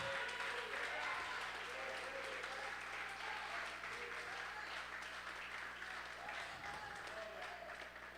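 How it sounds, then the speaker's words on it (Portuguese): A church congregation applauds steadily during a worship service, a dense wash of clapping that stays even in level for the whole stretch. "Pode aplaudir porque é para o Senhor."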